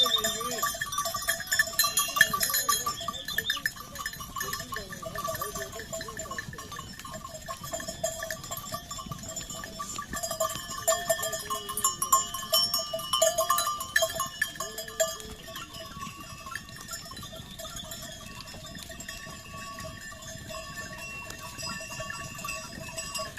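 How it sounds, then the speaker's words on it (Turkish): A herd of Salır goats on a farm with hundreds of animals, scattered bleats and clanking bells over a busy rustling background, with some talk nearby. "bunlar salır keçiler"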